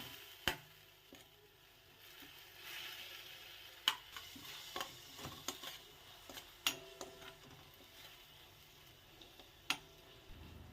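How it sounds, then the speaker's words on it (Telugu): Ground green chillies and coriander fry in a pan for coriander rice, a faint low sizzle with scattered sharp ticks and clinks from stirring throughout, no talking. "మిక్సీ పట్టుకున్న పచ్చిమిరపకాయలు, కొత్తిమీర కూడా వేసుకొని ఒక నిమిషం పాటు వేయించుకోవాలి"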